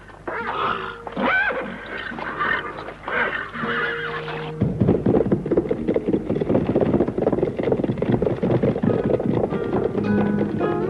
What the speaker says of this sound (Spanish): agarró un caballo de los que allí había porque los gauchos andaban siempre a caballo, y disparó al galope.